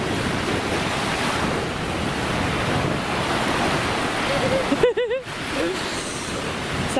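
Waves on the Baltic Sea roll and wash in a continuous, rushing surf with wind buffeting the microphone. There is a brief tonal squeal and a dropout just before the fifth second.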